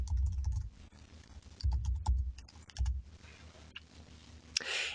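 Fingers type on a computer keyboard in quick, uneven bursts of light clicks, faint and close, with no one talking.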